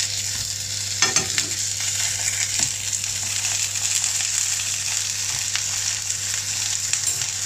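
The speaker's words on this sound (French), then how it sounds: "j'ai mis mes galettes sur la poêle dont j'ai beurré." Chicken patties frying in a buttered pan give a steady, even sizzle throughout, with one brief clatter of handling near the start and no voices.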